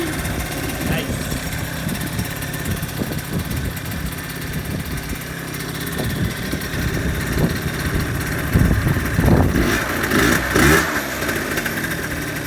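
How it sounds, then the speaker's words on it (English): A rebuilt engine with a new piston, converted from air to liquid cooling, runs at a steady, rough idle throughout. The chugging is close and continuous, with a few blips in the throttle and people talking over it. "it starts and it idles good"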